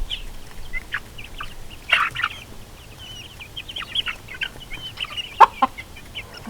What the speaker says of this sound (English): I even have the silky rooster.